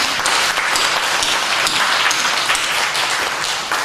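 Steady, dense applause from a church congregation during a Sunday worship service, a continuous wash of clapping that holds at full strength for about four seconds with no voices over it.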